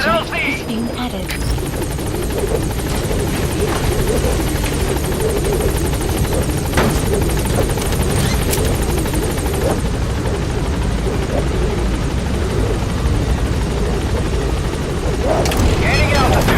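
Helicopter in the game Metal Gear Solid V setting down at a landing zone, a loud steady rotor roar with deep low thump running throughout, rising and swelling near the end.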